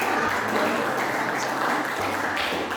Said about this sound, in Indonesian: kita berikan aplaus kepada kelompok ini